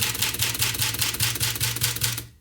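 Rapid keystrokes clatter steadily on a Smith Corona Silent typewriter, about a dozen crisp, evenly paced taps, close and fairly loud, ending abruptly in silence.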